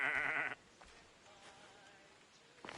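A goat gives one loud, wavering bleat up close at the start, from pens in the video game Assassin's Creed Odyssey, followed by quiet ambience and a fainter call near the end.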